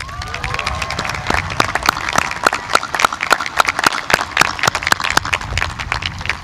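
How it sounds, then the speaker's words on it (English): A graduation-ceremony audience at Jackson Memorial High School applauds a Teacher of the Year, a steady roomful of many hands clapping with dense, sharp claps throughout and no talk over it. "Please give a round of applause for our Teacher of the Year"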